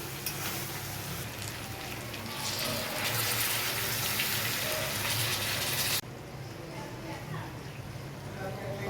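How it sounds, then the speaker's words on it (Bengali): Water poured into chicken curry browning in oil, a steady gushing splash that grows fuller midway, then drops to a quieter simmering hiss, heard close up. "এবার জল দিয়ে দেবো, কষা থাকবে আমাদের, হালকা জল দেবো।"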